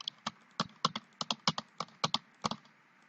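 Someone types on a computer keyboard while building a C# hostel management form, producing about a dozen crisp keystrokes at a quick, slightly uneven pace, close and clear with no voices.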